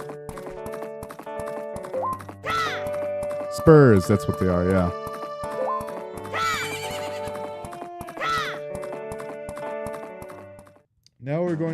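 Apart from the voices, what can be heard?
horse neighing and galloping in video game Majora's Mask 3D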